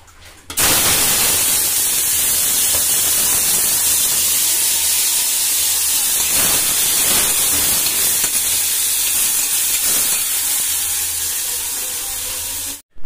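Spices crackle and sizzle in hot ghee for tempering kidney beans, a loud, steady hiss that runs unbroken for the whole stretch with no voices.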